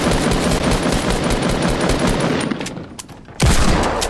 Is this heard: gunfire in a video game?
yes